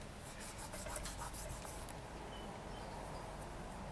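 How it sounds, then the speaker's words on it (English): Fingers rubbing the back of polymer clay smooth, a soft continuous close-up scuffing with faint rhythmic strokes at the start, steady and quiet with no talk. "I'm just going to smooth out the back by rubbing."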